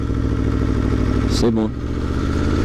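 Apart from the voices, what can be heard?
motorcycle engine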